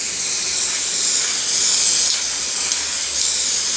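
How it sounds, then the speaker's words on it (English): Spray glue hissing steadily from an aerosol can, a continuous close, loud spray lasting several seconds with slight swells in intensity and no talking. "Just spray the whole thing."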